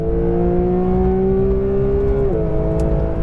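A Porsche GT3 engine holds a high, steady rev near 9,000 RPM, a loud, piercing mechanical wail with a sudden dip in pitch near the end as the throttle eases.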